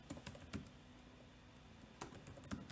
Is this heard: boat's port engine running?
no